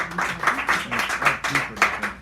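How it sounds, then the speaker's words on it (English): A small audience at a poetry hour in Sacred Grounds Cafe, San Francisco, claps for a poet, a modest, uneven patter of hands with loose rhythm, close and intimate rather than a large roaring ovation. "Round of applause for that man."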